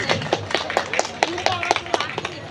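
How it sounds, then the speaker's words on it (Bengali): A crowd at a Shivaratri community gathering claps on request, a sparse, rhythmic patter of handclaps close by, with a voice speaking over it. "একবার জোরে করে হাততালি হোক"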